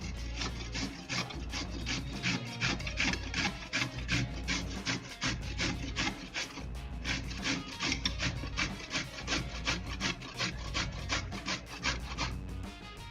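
Sweet potato is scraped against a hand grater in rhythmic strokes, a close, raspy rubbing repeated steadily over and over with no voices.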